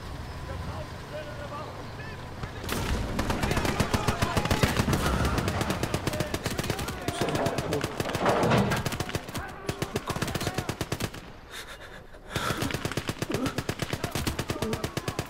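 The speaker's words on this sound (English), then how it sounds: "we're getting some fantastic kills with this medium mortar artillery barrage" Medium mortar artillery barrage with machine-gun fire in the WWII strategy game Gates of Hell: Ostfront, a dense, continuous crackle of rapid gunfire over rumbling blasts, loud throughout with a brief lull near the end.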